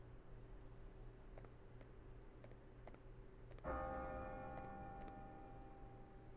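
A bell tolls once in the video game Bravely Default II, a sudden struck onset with a long ringing decay over a steady low ambient hum and faint ticking.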